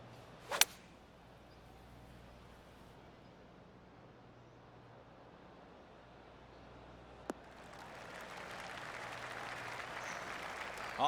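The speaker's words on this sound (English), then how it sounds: "Oh, I can hear the golf claps around the course." Golf claps from a gallery around the course in the PGA TOUR 2K25 video game, heard as a soft distant patter of applause swelling toward the end, after a sharp club strike near the start.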